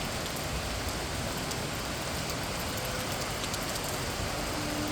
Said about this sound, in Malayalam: അങ്ങോട്ടും ഇങ്ങോട്ടും മഴ ഇങ്ങനെ ഡാൻസ് ചെയ്യുകയാണ്